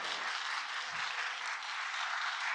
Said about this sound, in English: Please, another big round of applause for Miss Native U of A and Sade Fei Young